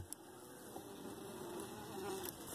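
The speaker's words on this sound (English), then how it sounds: "buzzing colony of bees and a nice bit of warmth that rises off of them" A honeybee colony buzzes in an opened hive, a dense, steady drone with a few bees passing close and louder, quiet and continuous with no talking.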